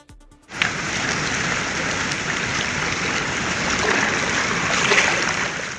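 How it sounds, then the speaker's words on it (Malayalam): Heavy monsoon rain pours down steadily in northern Kerala during days of flooding, a dense, continuous hiss of downpour on surfaces, loud and close, starting abruptly after a brief quiet moment and holding without a break. "4 ദിവസമായി പെയ്യുന്ന മഴയാണ്."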